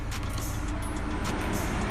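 Steady outdoor traffic noise, a broad rumble of passing vehicles at moderate distance with no talking.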